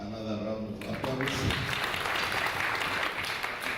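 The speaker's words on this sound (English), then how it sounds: "I think you deserve another round of applause." Audience applause at a cooperatives registry management information system event, a steady broadband wash of clapping lasting several seconds and rising after a brief opening of speech.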